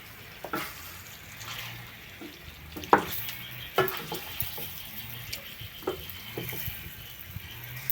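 Pork fat (toucinho) fries in a pan over a fire with a continuous sizzle and crackle, broken by sharp pops and the clatter of stirring and shifting the pan. No one speaks.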